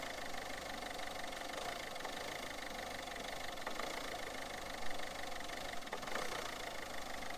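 Cold Mazda 3 1.6 HDi diesel with faulty injectors idles roughly, a steady uneven clatter with knocking throughout, close and continuous with no voices.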